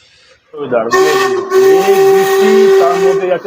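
A toy train's steam whistle blows at a station: one loud, sustained, shrill tone that starts abruptly and holds steady for nearly three seconds over a breathy hiss.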